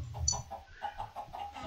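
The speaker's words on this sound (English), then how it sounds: "And a chicken just laid an egg." A chicken in a Minecraft-style realm game clucks in a quick run of short, rhythmic calls, close and moderately soft, with no voices.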